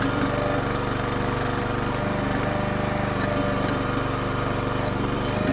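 A Red Rock mini backhoe's small engine runs steadily and loudly at close range, a constant droning hum with no breaks, used while pulling tree stumps.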